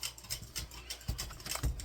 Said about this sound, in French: Et le bruit que vous entendez, c'est mon petit loup sur son ordi.